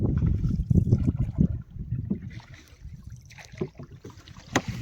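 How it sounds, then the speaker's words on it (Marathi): A rowing boat moves across water during a Ganpati immersion outing, with close, uneven low splashing and sloshing, occasional wind buffeting, and a few brief knocks near the end. "मित्रांनो मी होडी चालत आहे बघा"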